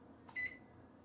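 Kitchen appliance timer beeping in a home kitchen, a single short electronic beep, clear and close against a quiet room background.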